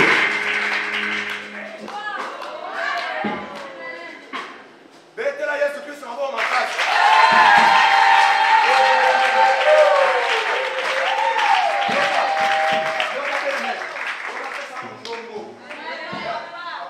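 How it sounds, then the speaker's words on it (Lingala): Congregation clapping and cheering together in a church service, a loud sustained burst of applause swelling midway and tapering, with voices and chatter mixed throughout. "Acclamons Jésus-Christ de Nazareth."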